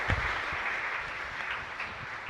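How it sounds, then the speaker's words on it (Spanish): A congregation applauds at the close of a novena Mass at Sagrada Familia church in Luque, the clapping soft and steady, heard at some distance for a couple of seconds. "Un fuerte aplauso para todos ustedes."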